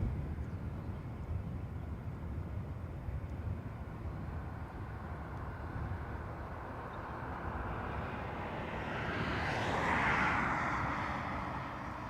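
Airliner departing runway 28 right at Dublin Airport, a steady broad engine roar that holds throughout and swells toward the end as the jet passes nearer, with no talk over it.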